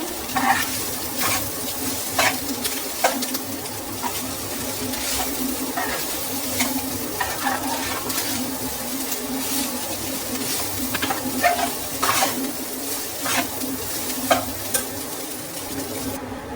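Egg fried rice is stirred and tossed in a frying pan, with a steady sizzle under repeated close scraping strokes of a spatula, and no talk.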